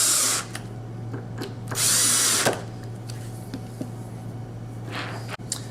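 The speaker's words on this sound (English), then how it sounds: "put in my pan head screws with the washers. I'm going to lightly tighten this down." Short bursts of a power driver running pan head screws with washers into a sliding door bracket, two brief whirs with light clicks and handling between them, close by.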